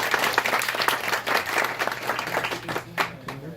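Dense applause from a meeting audience, many hands clapping together in a steady, fairly loud wash that thins out toward the end.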